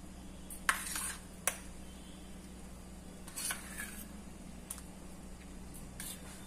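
A spoon stirs rice paste into milk in a pot for kheer, making a few faint, scattered clinks and scrapes over a low background hum.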